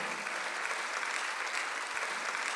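A church congregation at a Sunday worship service breaks into sustained applause, a broad, even wash of clapping that carries on steadily without any speech.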